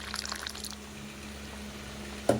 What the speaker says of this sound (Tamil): இப்போ வந்து அந்த தட்டைப்பயிர் தண்ணியும் கொஞ்சம் நான் ஊற்றிடுறேன்